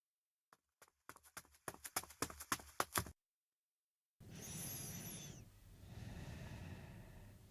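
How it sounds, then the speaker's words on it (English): Footsteps from a soundboard play as a quick run of a dozen or so accelerating thuds, then silence, followed by a whooshing ambient noise. "I heard the sound of footsteps"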